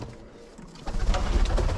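Pigeons cooing inside a loft during winter, a soft low cooing that swells and grows louder in the second half, with no talk.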